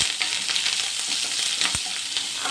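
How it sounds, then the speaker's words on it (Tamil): Mustard seeds spluttering in hot oil, a dense, steady crackle of sharp little pops and sizzle, close by and fairly quiet, with no talk over it. "என்னம்மா இந்த கடுகு இந்த மாதிரி பொரியுது?"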